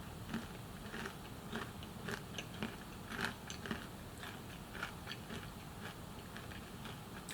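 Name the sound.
biting crunchy almond Florentine cookies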